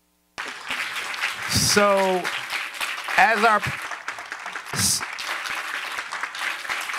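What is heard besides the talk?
audience applause for farmer panelists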